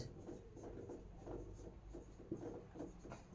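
Chalk or marker writing on a board during a class 10 trigonometry lesson, heard as soft, close scratchy strokes in short repeated bursts at a low level.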